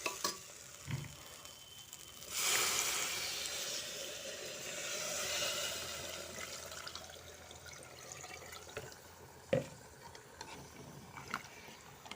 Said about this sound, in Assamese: ভজাৰ পিছত এতিয়া পানী দিম।